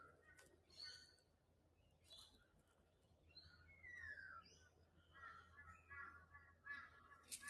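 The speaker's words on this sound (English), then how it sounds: "I pause to listen to the sounds of the crows" Crows caw in a forest, several harsh calls at varying distances spread through the stretch over a quiet rustling ambience, fairly faint overall.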